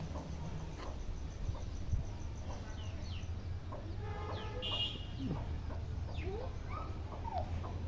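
One-month-old turkey chicks, eight in a brood, peep and cluck softly in scattered high chirps over a low background hum, fairly quiet and intermittent.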